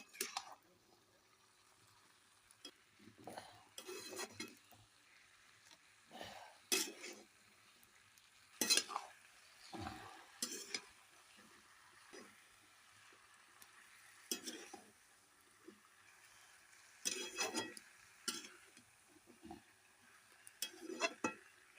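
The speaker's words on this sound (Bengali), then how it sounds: "আবার এই নেড়ে দিলাম, মিক্সড করে দিলাম সব একসঙ্গে।" Mixed vegetables, including taro, cooking in a pot and being stirred, heard as quiet scrapes and clinks of a utensil in bursts over a faint background simmer.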